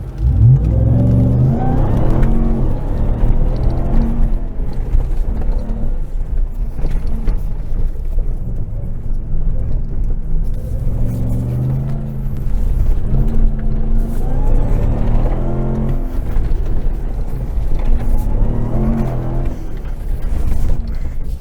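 A RAM TRX pickup truck's engine roars loudly and close during a rallycross run, revving up and easing off in repeated waves as it works through the corners.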